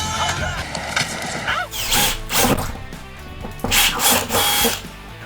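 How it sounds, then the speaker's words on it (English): A power drill bores a hole while a Dometic 48V FreshJet air conditioner and heat pump is being installed, giving several loud whirring bursts that rise and fall in close succession. "All right, so we've got our hole drilled here."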